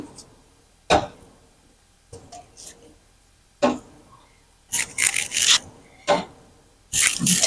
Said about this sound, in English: I'm tightening the lids